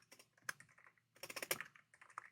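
Typing text on a computer keyboard while writing an HTML practice file, two quick bursts of close, crisp key clicks separated by a brief pause, no voices.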